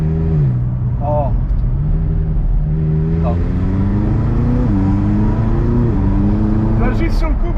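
A 600 hp ethanol-fuelled Audi R8 V10 with turbos and a carbon chassis revs hard nearby. Its loud engine note climbs and drops through the gears as excited people talk over it.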